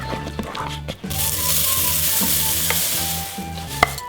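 Fruity Pebbles are stirred into melted marshmallow with vanilla, a steady sticky mixing with rhythmic scraping strokes against the pot and a few sharp knocks, close and fairly loud, no talking.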